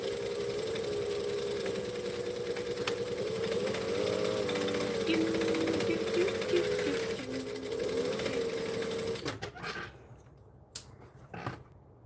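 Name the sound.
sewing machine stitching a custom order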